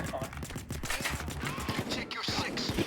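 Rapid gunfire from guns in Payday 2 during a jewelry store heist, a dense run of sharp repeated shots close and loud, mixed with a voice talking throughout.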